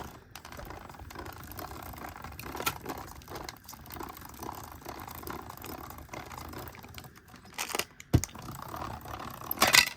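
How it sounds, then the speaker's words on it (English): A die cutting machine works through foam alphabet letters, making a run of close, irregular mechanical clicks and rattles, with sharper snaps and clunks toward the end. "I'm gonna die cut this to show you guys"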